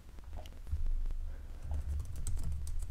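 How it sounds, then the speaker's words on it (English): Light, steady tapping on a computer keyboard while entering text into a C# console program, quiet and close, with no voice heard. "I can type anything over here"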